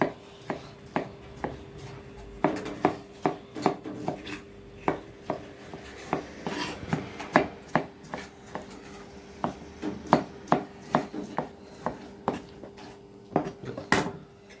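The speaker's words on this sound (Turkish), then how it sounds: "Bunu da güzel bir şekilde doğrayalım." A knife chops a tomato steadily on a cutting board, a long run of sharp, close taps in an irregular but continuous rhythm with no talking.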